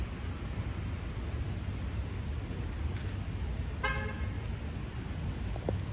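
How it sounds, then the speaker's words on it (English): Outdoor city street near a park at evening rush hour, with a steady wash of passing traffic and a short car horn honk near the middle, followed by a faint beep. "You hear cars, car alarms beeping."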